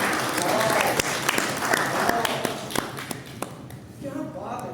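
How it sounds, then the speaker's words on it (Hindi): An audience at a sales and business seminar claps loudly and continuously, with sharp individual claps standing out, before the clapping thins out near the end. "इनके लिए तालियां होनी चाहिए"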